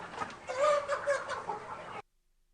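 A seventy-day-old native country chicken clucks nearby in a short run of throaty, rising calls, lasting about two seconds before cutting off to silence.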